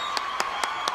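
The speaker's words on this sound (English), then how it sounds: "Clap it up." Four slow, evenly spaced hand claps ring out close and crisp, each a sharp single clap with a steady tone humming beneath.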